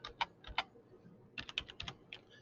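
Quiet typing on a computer keyboard, with short bursts of crisp key clicks separated by a brief pause, close and alone without talk.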